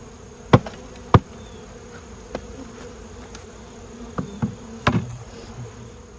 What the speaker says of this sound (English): Now the trick is getting these bees in here without killing any of them in the process.